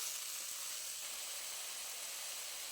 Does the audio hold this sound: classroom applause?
no